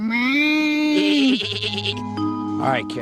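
Goats bleating loudly and close, one long wavering bleat followed by shorter overlapping cries, with a person talking over them.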